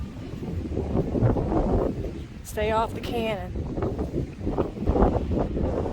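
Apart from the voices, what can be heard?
strong wind at the beach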